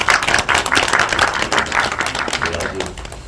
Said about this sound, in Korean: 격려 박수 좀 쳐주겠습니다